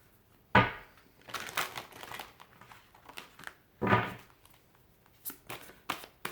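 Tarot cards pulled from a deck, a few close, sharp card-handling rustles and snaps separated by quiet gaps, with lighter shuffling flicks in between.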